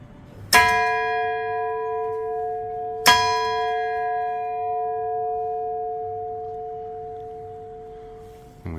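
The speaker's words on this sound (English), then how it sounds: "this is the bell that we can ring" A large church tower bell cast by Warner and Sons Bell Foundry is struck twice, each loud clang followed by a long, slowly fading hum that rings on alone.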